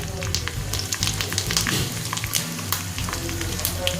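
Mustard seeds, urad dal and dried red chilies sizzle and pop in hot oil as a tempering for Chettinad coconut chutney, a loud, steady crackle close by with sharp seed pops scattered throughout.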